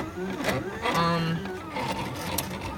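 A Silhouette Cameo 3 cutting machine works through heat transfer vinyl, its small motor whirring and buzzing in uneven, rising and falling passes, close by and fairly quiet, with no voices over it.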